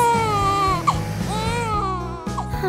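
A cartoon child cries and whimpers in rising, wavering sobs with a couple of sharp wails, with music underneath throughout.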